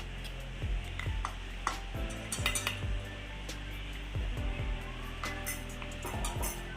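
Dried mango peel is stirred with chili powder for a pickle, producing repeated soft clinks and scrapes of a spoon against the bowl or pot in an uneven rhythm, close and moderate in volume.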